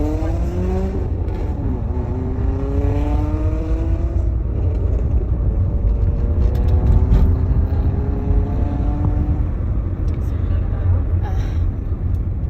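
A car engine runs steadily throughout, with rising and falling engine tones as it drives, while people talk over it.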